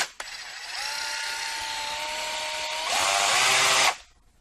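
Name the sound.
Black+Decker 20V mouse sander running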